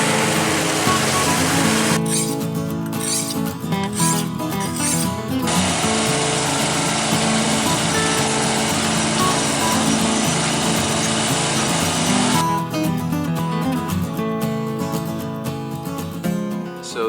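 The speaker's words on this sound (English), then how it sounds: "So this is my new to me US General air compressor." A 15-year-old US General air compressor from Harbor Freight runs steadily and loudly up close, its motor drone holding throughout with a rattling mechanical buzz and no talk.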